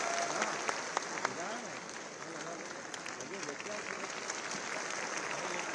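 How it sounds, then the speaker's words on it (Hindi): Audience applause at a National Youth Day ceremony attended by the chief minister, a continuous crowd of clapping with an announcer's voice talking over it. "तालियां बजती रहनी चाहिए"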